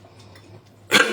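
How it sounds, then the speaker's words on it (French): A single sharp cough bursts out near the end after a quiet stretch. It is close and loud, from a person speaking during a live broadcast. "Insultez ma toux, je m'en fous, c'est la saison"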